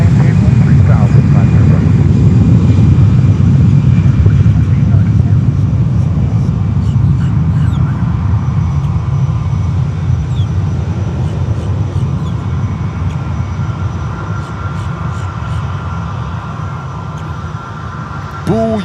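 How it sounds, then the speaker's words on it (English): An American Airlines Airbus A319 takes off at Fort Lauderdale-Hollywood International Airport, a heavy low engine rumble that slowly eases over time, with talk and radio chatter on top. "319, taking off. American Airlines."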